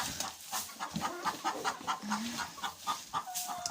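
Hens in a coop cluck and murmur continuously at close range as straw is spread for them, with soft rustling beneath the overlapping calls.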